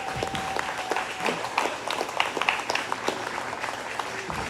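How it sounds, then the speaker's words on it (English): Audience applause for a comedian at a comedy show, a dense steady patter of many hands clapping across the whole stretch, with a few scattered shouts within the crowd noise. "Clap it up, clap it up."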